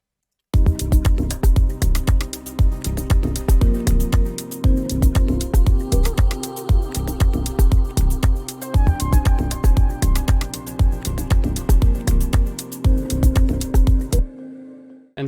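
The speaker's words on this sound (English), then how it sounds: "I've additionally added another synthesizer sound that goes well with these chords." An organic house track plays at full loudness, with an added synthesizer sound layered over its chords. A steady punchy beat drives the mix beneath dense tonal parts, and the whole track stops abruptly near the end.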